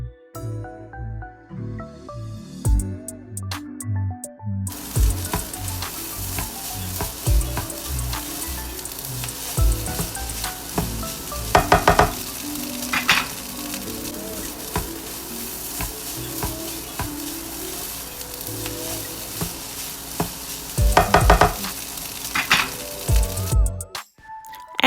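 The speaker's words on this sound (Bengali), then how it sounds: "দিয়ে আবার একটু মিশিয়ে নিচ্ছি রাইসের সাথে উপকরণগুলো" Rice stir-fried in a pan with fried egg and shrimp for pineapple fried rice, a sustained close sizzle with repeated spatula scrapes and occasional clinks against the pan, preceded by a few seconds of quieter sound.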